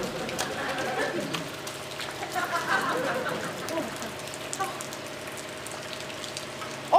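Steady rain falls outdoors as a soft, even hiss of drops spattering on surfaces, holding at a constant moderate level throughout with a few slightly louder patches of spatter.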